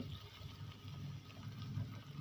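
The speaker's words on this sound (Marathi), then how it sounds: "मी आणखी थोडं पाणी सोडते" Water is poured into a thick patodi curry in a pot with a soft, continuous gurgling trickle, faint and close, with no talking.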